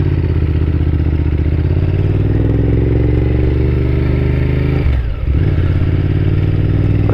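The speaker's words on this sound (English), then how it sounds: "It's a scary monster, especially when it rides past you because of the noise it makes." A BMW S1000R motorcycle engine drones loud and close with a steady rough rumble, dipping briefly midway before resuming its heavy, constant roar.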